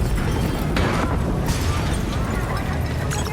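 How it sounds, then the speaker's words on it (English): Continuous heavy rumbling explosions in Call of Duty: Black Ops III roll through the clip, with sharp bursts and crackles breaking out repeatedly over a dense, loud low-end roar. "we have multiple explosions across the facility"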